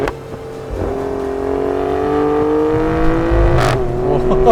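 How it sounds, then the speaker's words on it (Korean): A Maserati Grecale Trofeo SUV engine revs up loudly and close by, its pitch climbing steadily as it accelerates, with a sharp burst near the end; no one speaks over it. "확실히 엔진 기통수는 작아지고 배기량도 낮아졌지만 기존의 마세라티가 추구했었던 사운드, 마세라티가 보여줬었던 사운드, 마세라티를 떠올리며 연상되는 사운드가 그대로 담겨져 있어요"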